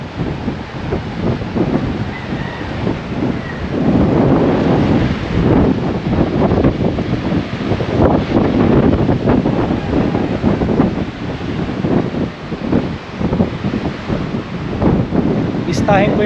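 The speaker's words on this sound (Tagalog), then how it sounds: "ganda ng hangin" Wind gusts by the sea and buffets the microphone in a steady roar, with surf faintly underneath and a voice talking over it.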